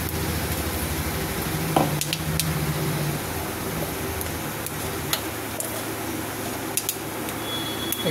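Bay leaves and cumin seeds sizzle in hot oil for a cabbage pakora curry, a steady close frying hiss with faint clicks and the odd tap of a utensil, no voices.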